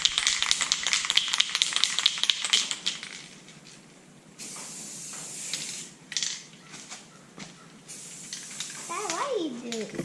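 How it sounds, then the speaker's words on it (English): Spray paint hisses in bursts onto a gravity deer feeder outdoors, a close, steady hiss for the first few seconds, then shorter squiggly sprays with pauses, with a voice briefly audible near the end. "Doesn't take much spray paint."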